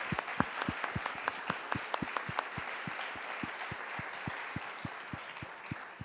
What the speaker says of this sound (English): just a big applause for them